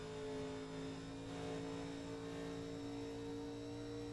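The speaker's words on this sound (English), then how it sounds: "Hear them guys just feathering that gas. They're just playing with that gas pedal." Race cars at Charlotte feathering the gas pedal, heard as a faint, distant, steady engine hum that swells slightly and holds throughout.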